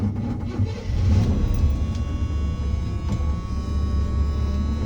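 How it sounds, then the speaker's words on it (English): A lowered 1979 square body pickup truck rumbles along under way, its engine droning low and steady with a swell of revving around the first second, close and fairly loud, with no voices. "I'm gonna jump in this thing and give it a little drive"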